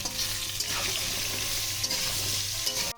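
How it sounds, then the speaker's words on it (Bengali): Cut pumpkin frying with tempering spices in a pan, a dense steady sizzle with soft stirring scrapes, close and constant until an abrupt stop. "কুমড়োর সাথে ফোড়নের সাথে আমি কিছুক্ষণ ভাজা করে নেব।"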